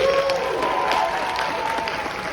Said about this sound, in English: let's give a round of applause to you all in the audience